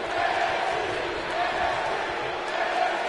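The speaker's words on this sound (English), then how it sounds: "And some NXT chants out in the crowd." Crowd at an independent wrestling show chanting NXT, a steady dense roar of many voices filling the arena without pause.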